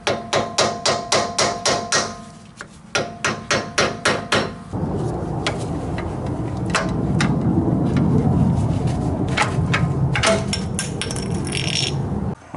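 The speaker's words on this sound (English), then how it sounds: "I'm going to go ahead and remove the axle seal" Seal removal on a GM 10-bolt rear axle from a Chevy Tahoe/Silverado, marked by a run of sharp, evenly spaced metallic hammer blows with a pause partway through. Prying and scraping sounds with a low rumble of handling noise come after.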